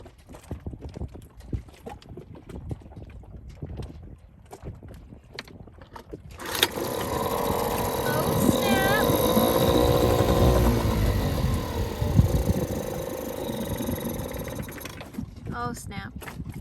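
A dinghy's small outboard engine running after a carburetor repair, firing up partway through and holding a loud, steady rough drone with some revving, while people talk over it.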